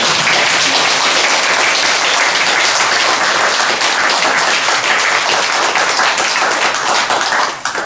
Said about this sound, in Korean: 이 부분에서 뭐 박수라도 한번 쳐야 됩니다.